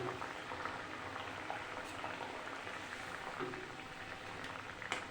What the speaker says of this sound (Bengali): ঝোলটা ফুটতে শুরু করেছে, ঝোল ভালোভাবে ফুটে গেছে